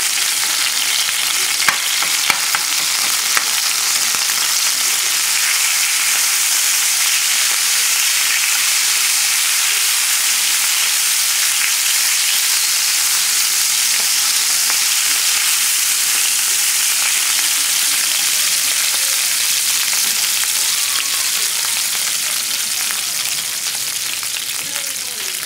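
Anchovies sizzling and frying in a pan, a steady bright crackle and hiss that holds evenly the whole time, with a few faint utensil taps near the start.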